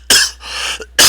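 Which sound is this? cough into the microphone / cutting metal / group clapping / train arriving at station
cough into the microphone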